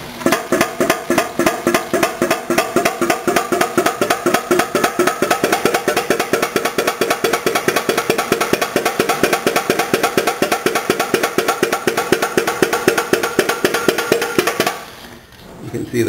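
A homemade putt-putt boat engine built from household junk pulses in water with a steady, rapid rhythmic throb lasting about fifteen seconds, close and fairly loud, then cutting off abruptly near the end.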